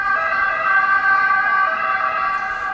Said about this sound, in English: Lots of sirens in Rome.